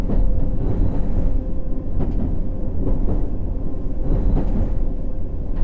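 A London Underground Hammersmith & City line train in World of Subways 3 rumbles steadily as it arrives, with repeated clattering wheel knocks over a loud continuous roar and a faint whine, no voices.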